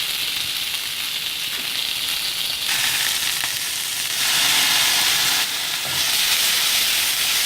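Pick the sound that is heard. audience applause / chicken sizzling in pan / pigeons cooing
chicken sizzling in pan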